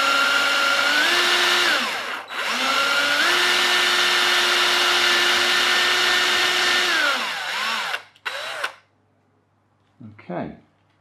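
Power drill boring into a small IKEA occasional table or stool, a loud whirring run of about seven seconds with a brief stop and restart, then short bursts and a final quick whir.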